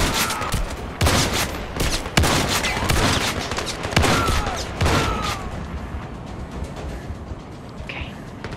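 Shotgun blasts ring out in the shooter game Zero Caliber, a rapid series of loud, sharp booms over the first five seconds amid ongoing battle noise, then tapering to quieter background rumble.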